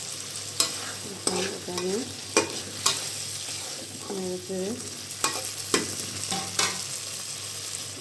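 Mashed potato and chickpea mixture fried and stirred in a pan, sharp rhythmic spatula scrapes and knocks over a steady sizzle, close; a few words are spoken briefly.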